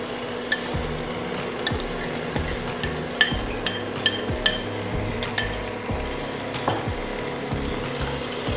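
Okra being stirred into spices and chopped tomato in a pan, with repeated clinks and scrapes of a spoon against the metal over a steady low cooking hiss, no voices.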